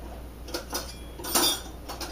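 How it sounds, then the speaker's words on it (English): A utensil scrapes and clinks against a bowl in several short strokes while peanut butter raisin cookie batter with flakes is stirred, close and fairly quiet. "I just want to make sure to get to the bottom because we want to get all that batter evenly mixed with the flakes"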